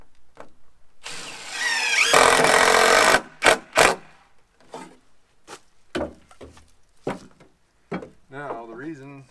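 A power drill drives screws into 2x4 deck railing, one long whirring burst followed by short revving pulses, with someone talking between them.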